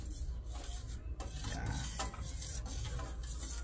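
Steady scraping and rubbing as a brush spreads a chili-flake basting sauce over spare ribs, continuous and close with soft wet strokes, no talk.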